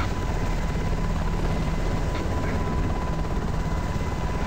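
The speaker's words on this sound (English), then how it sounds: "With the VTOL on, you just have to keep holding your power in and point the nose level up, and it'll climb." Engine of a VTOL jet in the video game ArmA 2 holding a steady, loud roar while climbing, with a constant drone and no talk.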